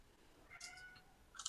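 A house cat meows twice in the background, the first a longer harmonic cry and the second a short sharp call, faint and distant with no talk over it.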